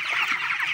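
A crowd of chickens on a winter poultry farm in Palanpur, a 2000-bird flock kept warm with coal brooders, clucks and chatters continuously and fairly loudly close by, with no talk.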